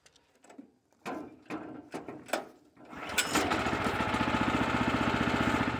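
A Wood-Mizer LX-25 sawmill lowers its blade: a few separate clanks and knocks, then a steady mechanical whir with a fast rhythmic ratcheting pulse, close by.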